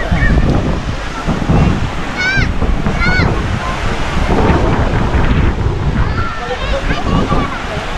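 Surf washes continuously onto the seashore at Brgy. Wawa II, Rosario, Cavite, loud and close, mixed with gusty wind buffeting the microphone while people talk nearby.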